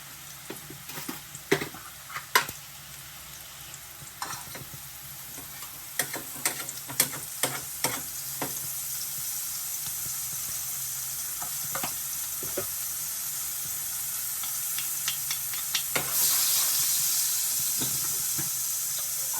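Oil and margarine fry in a pan with a continuous close sizzle, punctuated by repeated clacks of stirring and scraping, and the hiss swells louder toward the end.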